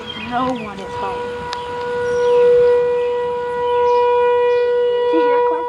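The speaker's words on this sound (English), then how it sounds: "Do you hear the tornado siren?" An outdoor tornado warning siren during a July first test, its steady sustained wail holding a long rising-and-falling tone from a distance across the whole stretch, with a little background noise and brief voices near the start.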